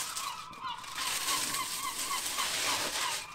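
Seagulls call outdoors in a series of harsh, repeated cries, moderately loud and fairly close, over a steady background hiss.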